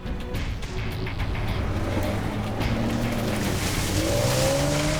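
A pod car steered by a driver seated on top, running through a cornfield on a movie set; a steady, close engine roar with rumbling tyres that holds throughout and swells slightly near the end.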